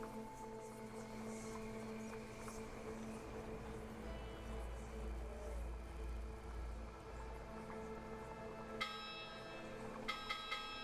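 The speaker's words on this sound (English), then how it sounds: "That's not how you hold a bell." Church-like bell tones ring out in the 7th Guest VR game, with sustained resonant chimes under a low hum and a few brighter metallic strikes near the end.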